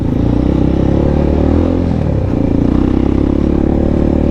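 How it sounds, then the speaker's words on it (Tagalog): A dirt bike labors up a steep enduro hill-climb trail in Bamban, Sagingan, its engine droning loud and close with a rough, pulsing low rumble that rises briefly mid-clip, mixed with clattering and scraping. "Di na kaya ng motor ni Lance dito."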